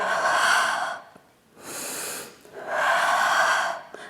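During a seated chair workout, a person breathes out noisily three times in a row, each exhale long, breathy and close, with short quiet gaps for the inhale.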